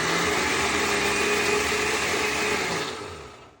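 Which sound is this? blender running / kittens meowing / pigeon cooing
blender running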